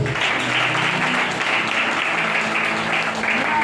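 Church congregation applauding the Lord, a dense sustained clapping from many hands filling the room at steady loudness, with faint voices mixed underneath.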